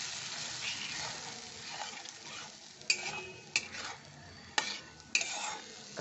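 Curd is stirred into an eggplant curry over low heat, a soft continuous simmering hiss with several distinct clinks and scrapes of a spoon against the pan, close by.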